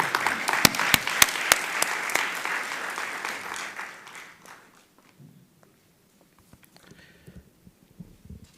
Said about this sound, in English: Join me in a round of applause for Professor Brown.